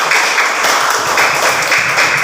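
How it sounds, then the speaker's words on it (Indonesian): Applause in a primary school classroom, a steady wash of many small hands clapping together for the whole 2 seconds, fairly loud and continuous with no talk over it. "Tepuk tangan untuk kita semua."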